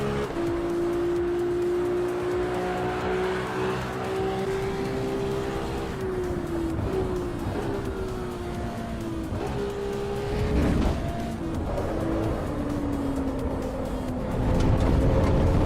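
A stock car engine in the racing video game Assetto Corsa EVO drones at high revs, pitch slowly falling and rising through gear changes, with tire scrubs and a rougher burst near the end.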